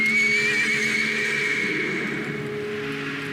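A horse whinnies loudly and close in Metal Gear Solid 3, a high wavering neigh that fades over a few seconds, with a soft hoof clatter beneath and no talk.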